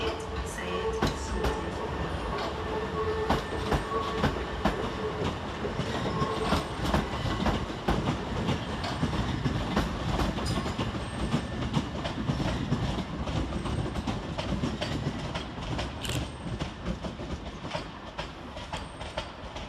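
Southern Railway class 377 electric train moving through Redhill station, a continuous rumbling roll with rhythmic clickety-clack of wheels over rail joints and faint squeal, loud and close throughout.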